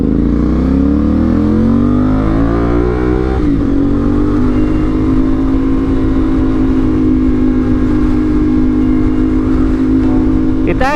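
A CFMoto 450SR motorcycle engine is heard while riding, revving up through rising pitch sweeps, then settling into a loud steady drone with rushing wind noise close to the rider.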